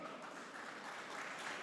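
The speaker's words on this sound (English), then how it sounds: "So I'd love to just give a round of applause to welcome our two guests, Lars and Amy." Faint audience applause welcoming guests at a panel discussion on a company's energy, AI and robotics roadmap, a steady even patter of many hands heard from a distance.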